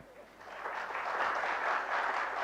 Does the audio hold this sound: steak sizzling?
no